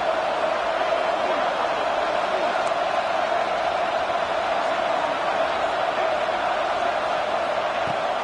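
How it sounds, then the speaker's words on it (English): A football stadium crowd at an Oregon versus BYU game roars steadily as the defense holds in the red zone, a dense, continuous wash of distant cheering with no breaks throughout. "the crowd coming to life here, trying to help this defense down in the red zone"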